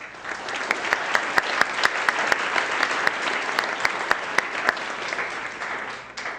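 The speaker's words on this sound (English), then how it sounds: "So round of applause for IPSF." A crowd applauds at a CubeSat STEM program kick-off event, a sustained rush of clapping with several sharp, louder individual claps standing out near the microphone before it fades away at the end.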